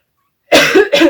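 Two sharp coughs close by, one right after the other, following a moment of silence.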